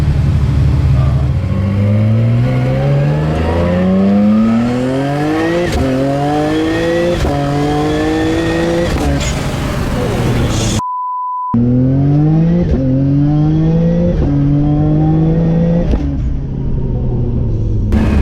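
A tuned twin-turbo car with an HKS exhaust and ARC downpipes revs hard through repeated rising pulls, loud and close, with a short beep partway through.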